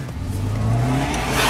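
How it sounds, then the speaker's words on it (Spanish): A rally car engine revs hard at a rural party, a loud rising harmonic whine climbing steadily over about a second and a half, close and sustained with no talk over it. "Este es un auto de rally"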